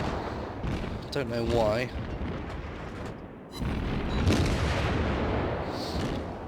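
Naval guns on a Japanese cruiser in World of Warships fire shells with deep rumbling booms over constant battle noise, someone speaking briefly over the din.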